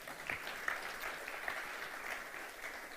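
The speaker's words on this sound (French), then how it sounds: "Et vous avez le droit d'applaudir." Steady applause from a church congregation during a sermon, a dense even patter of many hands clapping at moderate volume, continuing throughout without voices.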